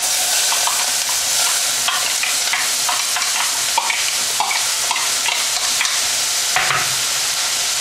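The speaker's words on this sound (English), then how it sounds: "I'm gonna get my onions and chuck them in the other pan" Onions frying in a hot pan give a loud, continuous sizzle and crackle throughout, with occasional light pops and scrapes close by.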